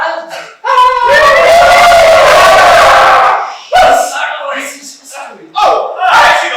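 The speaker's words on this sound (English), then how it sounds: "The crowd goes wild." A crowd roars and cheers loudly for several seconds in a single big swell, then cuts off. It is followed by short, loud bursts of shouting voices.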